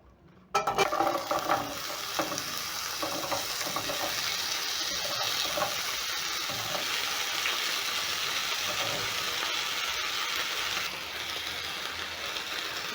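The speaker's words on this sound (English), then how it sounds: "As my potatoes cook over medium heat" Potatoes frying in a single layer in a pan over medium heat give a steady, close sizzle that starts abruptly and holds even, with a faint scrape near the start.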